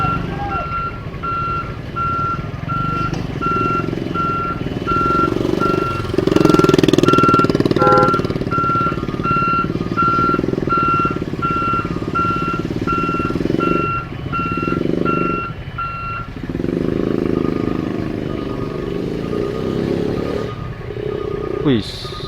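Trucks stuck in a traffic jam, including a car carrier, on a road near Mamuju in Indonesia, with engines rumbling nearby and a loud, repeated reversing beep running through most of the scene.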